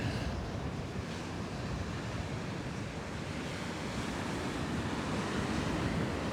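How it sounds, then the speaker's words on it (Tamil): Strong wind and surf on a beach during a storm warning, a steady full roar of breaking waves with heavy wind buffeting the microphone, continuous throughout with no voices. "காத்துன சத்தம்"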